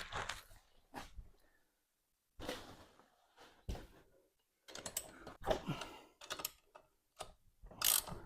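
Wrench ratcheting while rear crash bar bolts are tightened on a Triumph Trophy SE motorcycle, with short bursts of quiet clicking separated by pauses.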